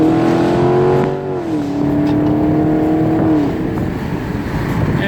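A 2016 Chevrolet Camaro 2SS convertible V8 with optional dual-mode exhaust set to track mode accelerates hard, a loud close droning roar that climbs, dips at a shift, then climbs again.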